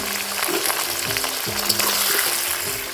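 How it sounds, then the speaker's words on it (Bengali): Potatoes fry in ghee with spices, a loud close sizzle broken by repeated spoon scrapes and stirring strokes against the pan, with no talking. "আলুটা ভাজা হয়ে গেছে।"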